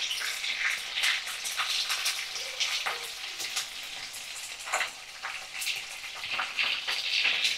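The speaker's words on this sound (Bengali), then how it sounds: "সুন্দর করে লাল লাল করে আমি চিংড়ি মাছগুলোকে ভাজা করে নিচ্ছি" Prawns frying in oil, a fairly quiet, busy sizzle full of crisp pops and spits that swells and dips without pause.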